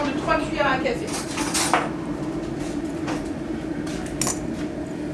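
Metal spoons clink and scrape against pots while ingredients are measured in a home kitchen, a busy run of bright rattles and taps over a steady low background hum.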